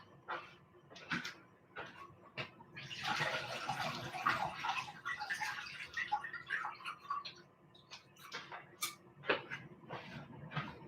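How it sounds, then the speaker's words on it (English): Milky rice-washing water is poured out of a pot into a kitchen sink, a faint splashing trickle that swells for several seconds amid scattered clinks and knocks of the pot. "I'm just going to go and pour it down the sink, leave the rice in there"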